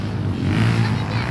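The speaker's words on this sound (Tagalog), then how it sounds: "Naririnig ko na yung mga motor" A rumble of trail-riding motorcycle engines at an event in Laguna drones steadily at moderate loudness, somewhat distant, with no clear individual revs.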